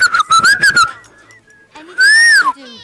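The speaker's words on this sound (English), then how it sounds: "Let's whistle." A character whistles in the video game Fable III, a few quick rising tonal notes followed by a longer, louder sustained whistle that swells and fades, fairly close and clear.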